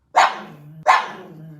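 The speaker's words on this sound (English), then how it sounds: "I understand that is actually Miko's real bark, not a sound effect" A pug barks twice, close and loud, each sharp bark trailing into a short low rumble.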